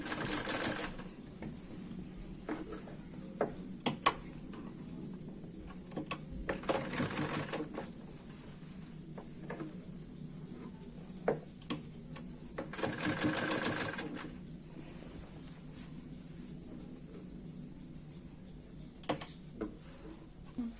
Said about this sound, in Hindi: और इसे मशीन से टक कर लेंगे।